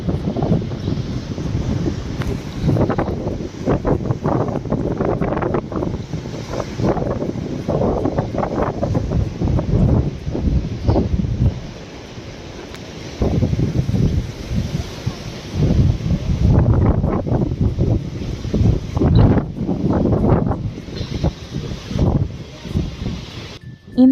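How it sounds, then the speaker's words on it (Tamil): Strong, gusty wind on a beach pier near London by the Atlantic, roaring loudly against the microphone in sustained buffeting bursts that ease briefly midway, with no talk heard. "செம்ம காற்றுங்க."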